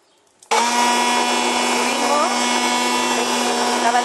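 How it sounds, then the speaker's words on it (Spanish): After a brief quiet moment, an electric hand blender making mayonnaise from sunflower oil switches on and whirs loudly and steadily, its motor whine holding a constant pitch. "La batidora, a medida que vemos que por abajo ya está hecho, se va haciendo por arriba"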